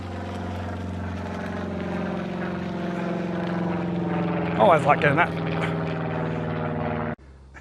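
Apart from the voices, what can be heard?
plane flying overhead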